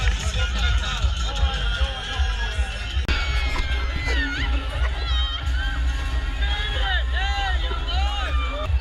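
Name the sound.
crowd hubbub at a street festival in Grenada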